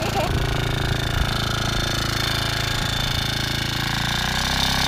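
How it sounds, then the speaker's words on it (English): Small moped or pit bike engine running nearby, a loud, steady rattling drone that holds throughout. "Now my little brother's gonna ride the moped."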